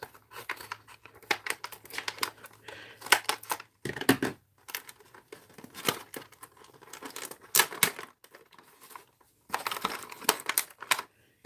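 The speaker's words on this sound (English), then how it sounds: "Using scissors is better for me." Scissors snipping and slicing through tape on sealed product boxes, with crinkling and tearing of packaging in irregular bursts, fairly quiet and close.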